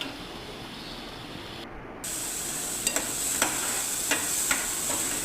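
Corn added to a frying pan for a Khandeshi-style usal, a steady sizzle that brightens as the kernels go in, followed by several sharp scraping clicks of stirring.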